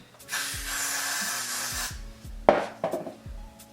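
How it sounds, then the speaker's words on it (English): Hairspray hisses onto the hairline during a wig install in one long, close spray, followed by a few short bursts alongside faint handling and rubbing sounds. "I'm gonna spray my hairline."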